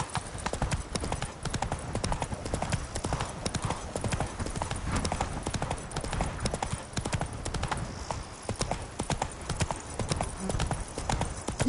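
Roach the horse galloping in The Witcher 3, with a steady, fast clip-clop of hooves throughout, dense and rhythmic with a faint rumbling background underneath.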